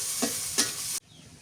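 Chilies, onion and garlic fry in oil for a green banana mash, giving a close, steady sizzle with two brief stirring scrapes before the sound cuts off abruptly.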